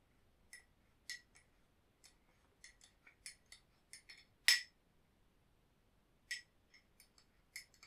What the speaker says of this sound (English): You can give it a stir.